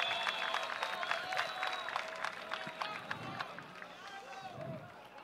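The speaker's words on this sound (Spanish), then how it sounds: "Y un fuerte aplauso para los muchachos." Audience applause for rap battlers at an FMS Caribe freestyle event, a dense steady patter of clapping with crowd noise and some background speech throughout, moderately loud.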